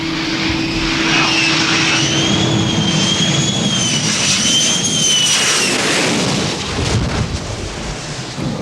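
Jet aircraft on landing approach to a carrier flight deck, a loud continuous engine roar with a rising and falling high-pitched whine, close and steady before easing slightly toward the end.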